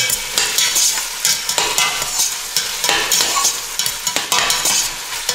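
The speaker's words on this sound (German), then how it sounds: "So richtig schön anschwitzen." Onions sweat in a pan for a Mangalica pork goulash while a utensil stirs them in repeated scraping strokes over a loud, continuous sizzle.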